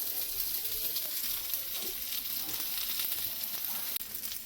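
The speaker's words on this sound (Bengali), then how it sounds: "সবগুলো টিক্কা ভাজা হয়ে গেছে" Paneer tikka marinated in curd, garlic and salt sizzles steadily on a hot tawa, a continuous close crackling fry with no voices.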